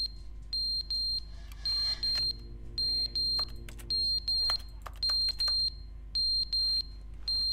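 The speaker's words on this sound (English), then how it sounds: "Ah, the beeping noise." A repeating electronic alarm beeps in The Stanley Parable, high steady tones in regular bursts of roughly half a second, loud and close over a low hum, with some faint clattering between beeps.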